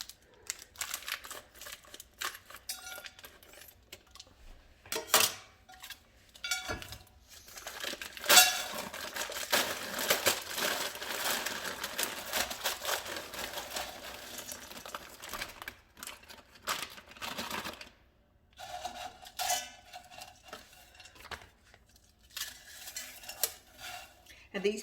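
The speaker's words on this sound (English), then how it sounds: "I'm going to cut open the fresh peas." Fresh pea pods are cut open by hand, giving irregular close clicks, snaps and light rustles that come in bursts with short pauses throughout.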